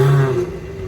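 Toyota Cresta engine, a Japanese kaido racer-style car, cranking and revving with a steady low drone and strong tonal hum that fades slightly after a brief loud burst at the start.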